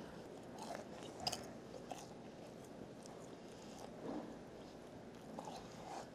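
Quiet, close crunching bites into crispy sweet and sour pork at a Chinese restaurant, with a sharper crunch near the start and softer chewing after.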